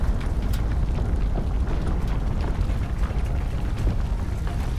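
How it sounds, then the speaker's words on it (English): A very long explosion in the video game Planet Crafter, heard as a steady, dense roaring rumble that holds loud and unbroken from start to finish, with crackling debris textures on top. "This is a very long explosion."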